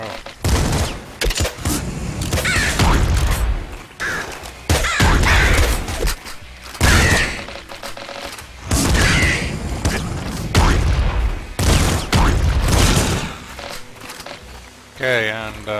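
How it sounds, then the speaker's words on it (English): A cluster grenade launcher fires in the video game Nuclear Throne, producing repeated booming blasts and crackling bursts in uneven clusters, loud and punchy, with a person talking throughout between and over the explosions. "Cluster grenade launcher. Well, yeah, that's a cluster grenade launcher."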